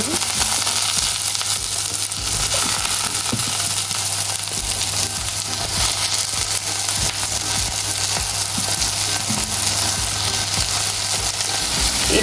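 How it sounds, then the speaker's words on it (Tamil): Soaked soya meat, squeezed out, is dropped into a pan of frying curry, producing loud, continuous sizzling and crackling with occasional stirring knocks. "இப்போ நான் ஊற வச்ச சோயா மீட்டை நல்லா புளிஞ்சிட்டு இதுக்குள்ளே போட போகிறேன்"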